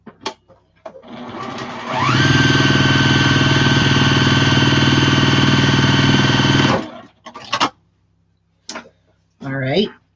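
A sewing machine stitches fabric for a drawstring bag in one loud, steady run of about five seconds with a whirring motor and rapid needle ticking, framed by a person speaking before and after.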